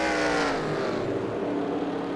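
Race cars roar steadily in traffic on a track during a racing league event, a continuous dense engine drone with several cars close together and no talk over it.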